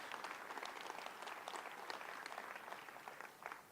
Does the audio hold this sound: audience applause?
yes